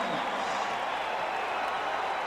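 Basketball crowd in the Summit arena roaring after a two-handed dunk during the 1995 NBA Finals, a steady, loud wash of cheering throughout.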